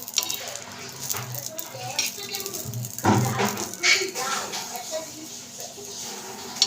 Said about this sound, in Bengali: এবার আমি কাঁচা লঙ্কা দিয়ে দেবো এর মধ্যে